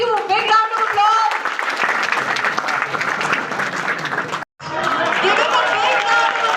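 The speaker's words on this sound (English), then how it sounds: "Thank you so much. Thank you. Big round of applause." Applause from a workshop audience on personal branding at a university, loud and continuous with overlapping voices and chatter, breaking off abruptly for a moment before resuming.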